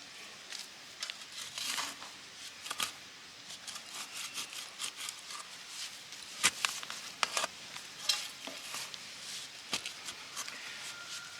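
Garden cutting and pulling of a wild root vine, with faint scratchy rustles, snips and crinkling debris in small irregular bursts, quiet and close with no talk.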